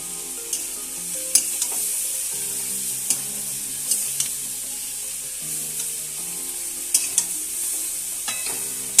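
Chilli powder stirred and fried in fish oil in a pan makes a soft, steady sizzle, with intermittent sharp scrapes and taps of the spoon close by.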